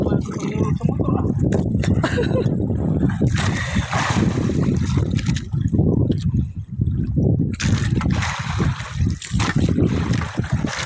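A small boat's motor drones steadily on open water, its rumble continuous beneath splashing and wind, while several people talk over it throughout.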